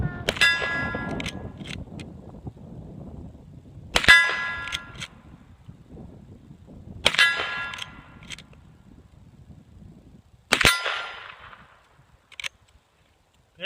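Shots from a Rossi 92 lever-action rifle in .357 Magnum ring out on a steel target range, four sharp reports spaced a few seconds apart, each followed by a metallic clang and a short ringing decay.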